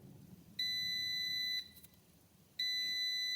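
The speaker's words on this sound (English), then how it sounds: "there's the beeper" Timer on a Cosori 5.8 quart air fryer beeping in two sustained one-second tones separated by a short pause, loud and close over a low background hum.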